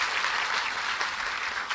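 A church congregation at a Mass honoring Padre Cícero breaks into sustained applause, an even, full wash of many hands clapping with no talk over it.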